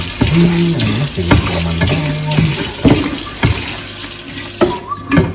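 Rice being washed in water by hand, with loud close sloshing, splashes and stirring swirls in irregular bursts, plus a faucet-like water hiss under them, with no talk.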